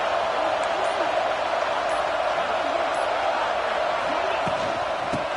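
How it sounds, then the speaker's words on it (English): A packed stadium crowd in a Penn State college football video game sends up a steady, dense roar that holds constant throughout, loud and unbroken with no distinct cheers standing out. "And wow, listen to this crowd noise. This stadium is vibrating."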